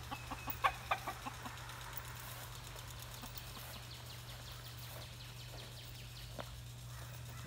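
Americana rooster and game hens on a farm cluck in a short burst of several quick calls at the start, followed by sparse faint clucks over a steady low engine-like hum.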